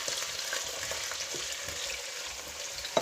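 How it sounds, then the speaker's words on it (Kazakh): Eggplant pieces, soaked in water and drained, fry in oil that has turned brownish, giving a steady, close crackling sizzle with small pops throughout and no talk. "Балдан кейін судан шығарып алып қойған баклажанды қуырамыз."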